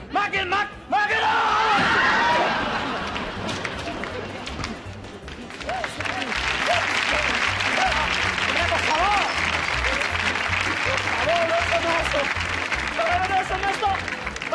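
Studio audience applause on the 1993 Spanish TV game show Un, Dos, Tres, loud sustained clapping and crowd noise that dips briefly and then swells again, with voices shouting over it.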